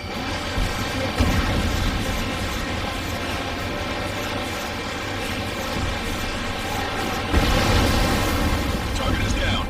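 Missile explosions in the Ace Combat 7 jet combat game come through as heavy booms over a constant roar of aircraft, with stronger bursts near the start and later on. Radio voices talk throughout.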